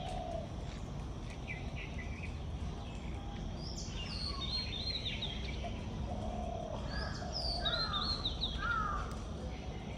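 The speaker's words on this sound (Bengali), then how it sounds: "পাখির ডাক।" Crows caw repeatedly from the near distance over an outdoor rural yard by a bamboo clump, areca palms and maize plants, harsh short calls in loose bursts, with other birds chirping faintly and a steady low background hum.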